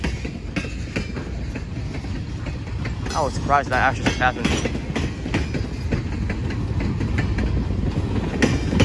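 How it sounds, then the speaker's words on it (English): Two freight trains pass at Lake Avenue in Blasdell, New York, a continuous rumbling roll with rhythmic clatter and a brief squealing passage midway, while someone talks over it. "these two trains just came out of nowhere."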